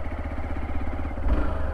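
Engine of a 2023 Hero Xpulse 200 4V adventure touring motorcycle, loud and close, a steady throbbing drone that swells slightly toward the end as the bike pulls.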